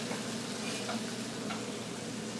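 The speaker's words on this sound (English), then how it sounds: "A little bit of olive oil, and in the gnocchis go." Gnocchi searing in olive oil in a pan give a steady, even sizzle with faint crackles, close and moderate in volume, with no talking.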